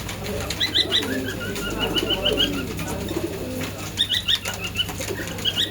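Pigeons of a Madras breed coo and flap their wings nearby at a bird market, with repeated soft coos and fluttering bursts over a steady low background hum.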